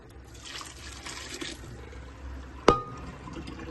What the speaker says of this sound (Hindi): तो ये मैं इसमें ठंडा पानी, इसमें सिंपल खुला पानी ठंडा डाल दूँगा